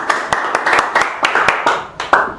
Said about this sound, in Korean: 유대원 박사님 나오실 때 우리 박수로 환영하겠습니다